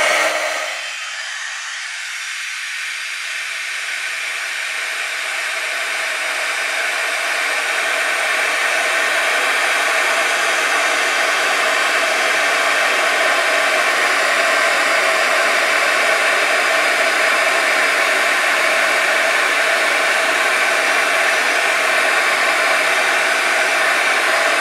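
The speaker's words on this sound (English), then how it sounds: "So I'm going to use my heat gun and melt it" A heat gun melting embossing powder gives a loud, steady whooshing roar close by that keeps going without a break for the whole stretch.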